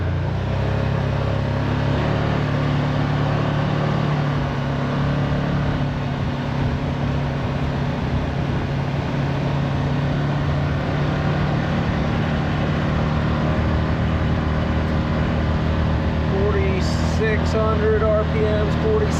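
A 2025 Can-Am Commander MAX side-by-side driven in two-wheel drive, its engine droning steadily with a deep rumble and drivetrain hum throughout, close and loud, with a light rattle near the end.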